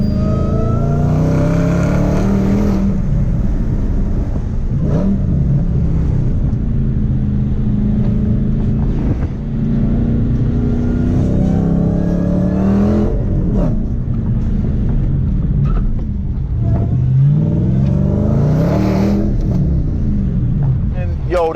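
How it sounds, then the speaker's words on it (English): Dodge Challenger Hellcat engine pulling hard while driving, loud sustained roar with repeated rising gear sweeps and shifts, heard from inside the car with the window down. "I want to show y'all just a little bit more ripping in the Hellcat."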